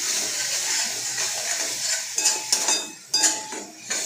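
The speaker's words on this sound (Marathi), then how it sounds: "त्याला पण थोडं तेल सुटेपर्यंत आपल्याला फ्राय करायचं आहे" Masala frying in oil for fish curry, a steady close sizzle with a spoon scraping and stirring through it in a few short strokes near the end, no talking.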